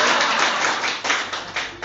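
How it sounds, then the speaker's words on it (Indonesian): A church congregation at a Sunday service claps for Pak Edo in a short, scattered round of applause. The hand claps are moderately loud and sound like a room full of people. "Tepuk tangan sekali lagi untuk Pak Edo"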